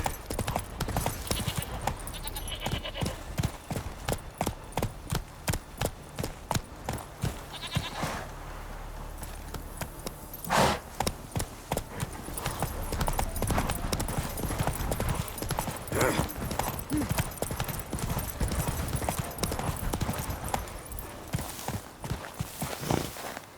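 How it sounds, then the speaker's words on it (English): Hooves from Geralt's horse in The Witcher 3 video game clip-clop steadily and rhythmically for the whole stretch, a fast, even trot heard close up with faint background ambience and a brief pause midway. "Whoa there, Roach."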